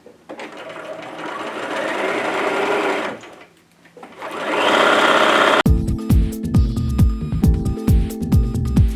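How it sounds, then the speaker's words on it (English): Sewing machine stitches fabric strips cut from a sheet set together, running in a steady whirring buzz, pausing briefly, then resuming with a sharp rapid mechanical clatter of the needle, close and loud. "all I'm doing here is just stitching some fabric strips together"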